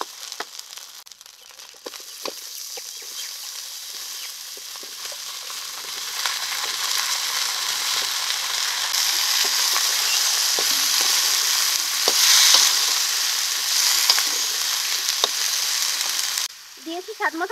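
Vegetables fry in a pan with cumin and ginger paste, a steady bright sizzle with scraping stirs, growing louder midway before cutting off near the end.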